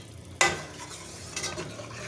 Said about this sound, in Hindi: अब हम इसके अंदर ये तड़का डाल देते हैं। थोड़ा सा तड़का हम बचा लेते हैं इनके लिए। इसको हम अच्छे से मिक्स करेंगे